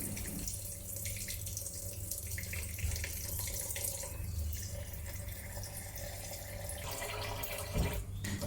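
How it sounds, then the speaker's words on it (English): Seitan dough is washed and squeezed in a container of water, giving continuous close splashing, sloshing and trickling with small drips and no voices. "add some water into the container to wash the dough for the second time"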